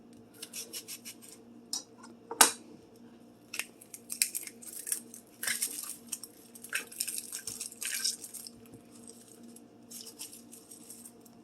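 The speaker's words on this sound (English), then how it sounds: "I'm going to cut the other part of the onion down here." A knife cuts through an onion on a cutting board with a series of crisp, close slicing and scraping strokes in an irregular rhythm, including one sharp louder knock, under a quiet background.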